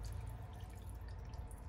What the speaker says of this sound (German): Jetzt gießt ihr das Ganze mit Wasser auf. So viel Wasser, bis das Fleisch bedeckt ist.